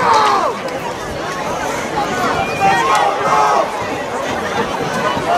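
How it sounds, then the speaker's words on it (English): A high school football crowd roars and chatters in the stands during a night game, loud swelling cheers and shouts rising and falling throughout. "The Comet crowd getting riled up here tonight."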